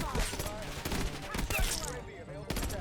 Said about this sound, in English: with the burst guns, you can actually just hold them down and it actually just shoots for you every time